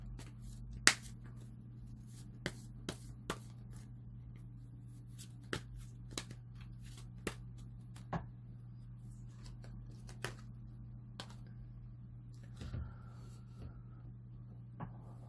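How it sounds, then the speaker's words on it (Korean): Tarot cards shuffled and drawn at a reading table, sparse sharp card snaps and flicks scattered over a quiet background hum, close and faint with no talking. "이제 마지막으로 조언 카드를 한번 뽑아 보겠습니다"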